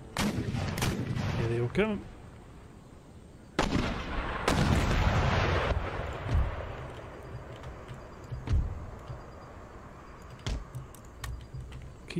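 Booming artillery volleys from an Empire: Total War battle, several loud blasts and rumbling crackle spread unevenly across the stretch, with someone speaking briefly near the start.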